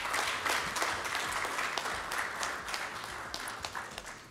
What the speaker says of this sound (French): un tour d'applaudissements très fort